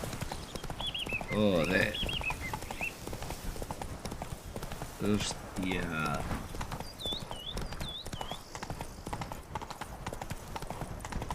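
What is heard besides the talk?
horse galloping hooves in a video game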